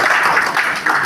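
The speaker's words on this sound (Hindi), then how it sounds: "मधुबनी यूनिट में ताली बजती रहनी चाहिए" Brief applause from a gathering at a BPSRA welcome ceremony with flag hoisting and lamp lighting, a short burst of close, steady clapping.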